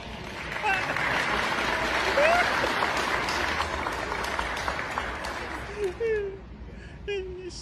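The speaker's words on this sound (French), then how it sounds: "et les gens applaudissent" An audience applauds a dog's roll-over trick with steady, dense clapping that fills most of the stretch, with voices and brief chuckles mixed in. Toward the end the clapping thins out.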